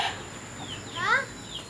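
A chicken gives a few short squawking cackles close by against quiet background hiss, the calls rising and falling over under two seconds.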